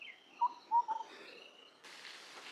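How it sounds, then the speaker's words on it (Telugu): Birds in a Goa forest give a few short whistled chirps, faint and somewhat distant, followed by a soft broad hiss of background noise. "అద్భుతమైన పక్షులు అరుస్తుంది"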